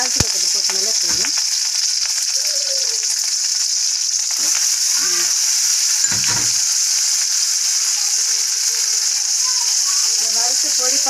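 Small mustard seeds tempering in hot oil give a constant loud hiss and crackling sizzle close by, with someone speaking intermittently over it.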